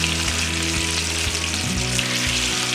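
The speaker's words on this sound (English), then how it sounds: "You just need to brown it a little bit." Pork chops brown in a frying pan with a steady, close, even sizzle and no voices.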